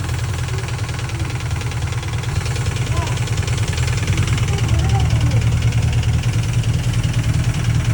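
Engine of a vehicle fitted with a repaired Unimog axle runs steadily with a heavy low rumble and knocking texture, loud and continuous throughout, while people talk over it.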